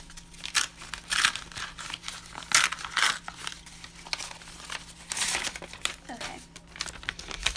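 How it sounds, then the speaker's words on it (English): A stiff paper envelope with flower stickers being torn and pried open by hand, close bursts of crinkling and ripping paper in uneven spurts with brief pauses. "This one's envelope is really hard to open."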